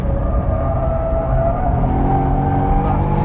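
A Mercedes-Benz SL63 AMG sweeps through a high-speed corner on a lap, its engine holding a steady loud drone with a rising pitch, while a voice talks over it.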